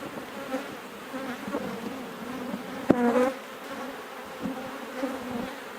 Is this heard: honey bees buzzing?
yes